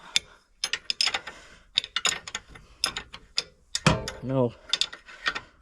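A ratchet loosens the cylinder head bolts on an A4T 1600 engine, giving a quick series of sharp metallic clicks in close, uneven bursts, with one short spoken word partway through.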